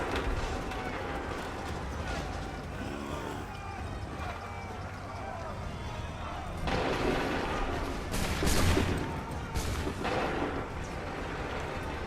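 Musket volleys in Assassin's Creed 3 during the Battle of Lexington and Concord crackle in a few sharp bursts over a busy battlefield din, with voices talking throughout.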